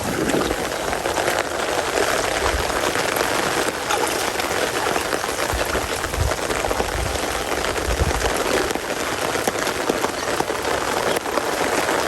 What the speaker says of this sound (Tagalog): Araw-araw pa'y umuulan gawa po ng may bagyo.